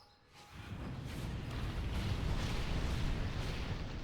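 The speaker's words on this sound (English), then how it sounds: "We have our collapsing star ready, so this is our big bomb." A collapsing star bomb ability detonates in a Demon Hunter video game, swelling into a long, deep rumbling roar that builds over a few seconds and sustains at a steady loud level.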